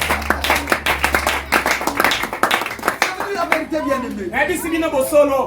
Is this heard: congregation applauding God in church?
yes